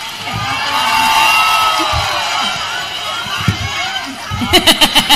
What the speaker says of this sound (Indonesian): Oh ya, tepuk tangan.